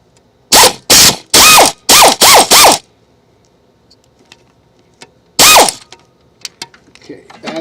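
Socket wrench ratcheting on a bolt during Ford Focus repair work: a loud, close burst of about six quick clicking strokes, a pause, then one more stroke followed by faint small clicks and handling.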